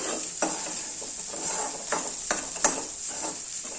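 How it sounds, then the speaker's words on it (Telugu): Vegetables sizzle in a pan over high flame while being stirred, a steady hiss with repeated scraping strokes at a regular pace, close and moderately loud. "సో ఇవైతే హై ఫ్లేమ్లో పెట్టేసుకొని ఇట్లాగా కలుపుకోవాలి."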